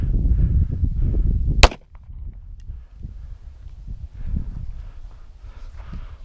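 A single sharp gunshot from a Daniel Defense H9 pistol firing 124-grain rounds, loud and abrupt, followed by outdoor wind and handling noise.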